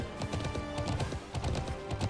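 Horse hooves clip-clop in a steady, quick rhythm in the online horse game Alicia Online, with a faint musical backdrop behind the continuous trotting.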